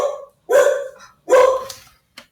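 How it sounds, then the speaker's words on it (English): A dog barks outdoors in a short series, about three to four loud barks with gaps between them, the last one brief and fainter. "Do you hear my dog? He's barking out there now."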